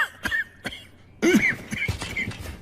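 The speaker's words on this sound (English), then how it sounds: "Let me cure your cough." A few sharp, close coughs in quick bursts, separated by short pauses, with a wetter, throatier cough at the end.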